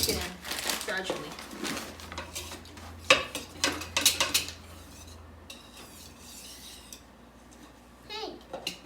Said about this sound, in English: we're going to whisk it in gradually